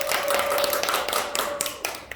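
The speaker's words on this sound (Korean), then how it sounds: "박수를 많이 주세요." An audience claps together at a community group presentation event, a dense brief patter of hands filling the room, fairly close and steady.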